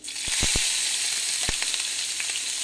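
Green chillies spit and crackle in hot oil in a pan for an egg omelette, a steady close sizzle broken by several sharp pops, with no voices.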